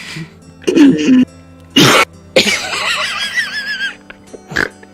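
A man mimics a heavy smoker's hacking cough in several loud, rasping bursts with gaps between them. Gravelly throat-clearing and wheezy, drawn-out strained sounds come between the bursts, close and dry.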